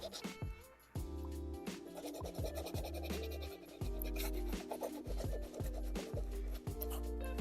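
A paintbrush scrubs acrylic paint back and forth on a painting surface in quick, rhythmic dry strokes, close and fairly quiet, with no talking.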